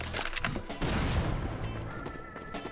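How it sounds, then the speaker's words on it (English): Mortar strike destruction in the video game Swelter: a dense burst of explosive booms and crackling debris, loud and close, swelling near the one-second mark and then rumbling on with scattered blasts to the end. "Perform mortar destruction."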